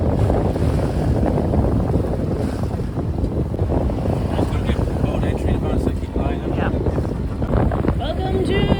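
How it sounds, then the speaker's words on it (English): Sailboat Wave Dancer under way on the Irish Sea off Lambay Island, heading from Dublin toward the Isle of Man: steady rushing water and wind buffeting the microphone, with faint voices in the background. "Welcome to summer sailing in Wave Dancer"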